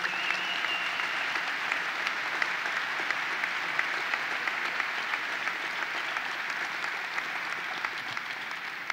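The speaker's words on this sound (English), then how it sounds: "Let's give them all a round of applause." Steady audience applause at the opening of a new expo center at the 2018 Great New York State Fair, a full crowd clapping continuously without pause for nine seconds.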